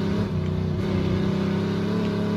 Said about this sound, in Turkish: Araba ne güzel ses çıkıyor ya